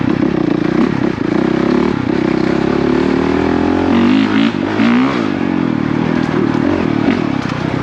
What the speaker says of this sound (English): it sounds so good too to be stock exhaust in my opinion.